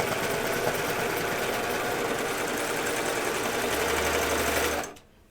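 A serger sews a seam on a pair of pants in a steady, fast mechanical whir with a rattling hum, loud and close, running continuously for about five seconds before stopping abruptly.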